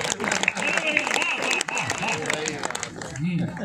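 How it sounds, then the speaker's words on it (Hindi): A crowd at a comic poetry gathering in Ayodhya applauds steadily under ongoing background chatter and voices, the clapping dense and continuous before fading near the end. "ताली जोरदार बजाइए।"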